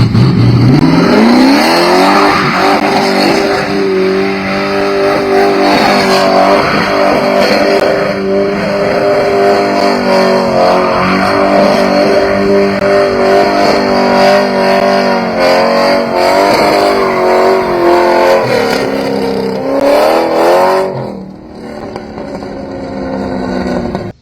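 A newly built car does donuts in an empty parking lot, its engine revving hard and loud with rising and falling pitch for over twenty seconds before easing off near the end.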